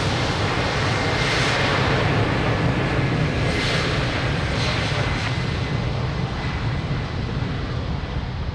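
An airliner takes off from runway 02 at Lisbon Airport, Portugal, its engines giving a loud, steady broadband roar that holds throughout without talk.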